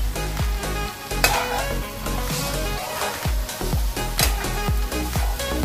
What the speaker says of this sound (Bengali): ভালোভাবে এরকমভাবে মিশিয়ে নিতে হবে সিমাইয়ের সাথে